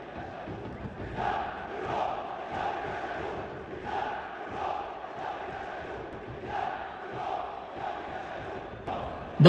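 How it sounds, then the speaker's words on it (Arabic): A Zamalek football crowd chants and cheers for its players during a derby match, heard as a distant, even roar that swells in regular rhythmic pulses. "الجمهور بدأ يندع عليهم ويشجعهم ويحمسهم ويحفزهم"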